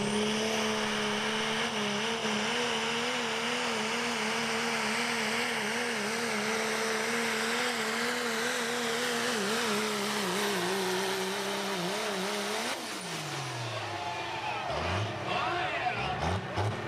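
A Hot Rod Diesel 4-wheel drive truck roars through a truck-pull run at a Fishersville, Virginia event, engine droning loud and sustained before the pitch winds down near the end.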